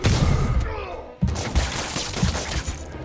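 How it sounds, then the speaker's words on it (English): Enemy gunfire in the video game Marvel's Spider-Man, dense rapid bursts of shots with thuds and impacts, loud and near, briefly cutting out before resuming, with a voice speaking over part of it. "Your guns are getting on my nerves."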